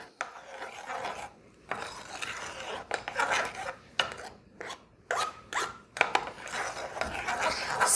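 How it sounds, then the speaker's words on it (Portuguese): Cake batter with cocoa being stirred slowly in a bowl, a steady scraping, rasping rhythm of spoon against bowl with brief pauses between strokes, close and fairly loud with no talking. "Vou dar uma misturadinha aqui. Devagarinho. Para misturar bem."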